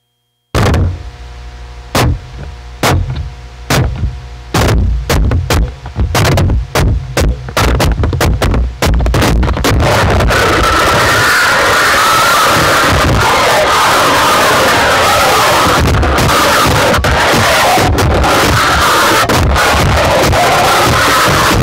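Harsh noise made by scraping and striking a knife and a chain, fed through death metal distortion pedals: a run of sharp, loud metallic hits that thickens into a dense, continuous roaring wall of distorted noise, with no voices.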